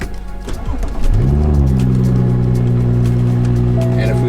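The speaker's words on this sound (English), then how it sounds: "Right, and then start the car." A BMW with an 8-speed automatic transmission cranks and fires up close by, its engine catching after a brief starter whirr and settling into a loud, steady idle.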